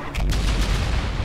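Jackhammer shotgun fired in the fast-paced shooter game Ultrakill, a loud, dense burst of booming blasts that rumbles continuously for about a second with no talking over it.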